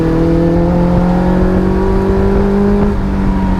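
Caterham Seven 360R sports car engine accelerating, a loud close rasping drone with tones climbing steadily in pitch, then a brief dip and lift around a gear change, over continuous road and wind noise.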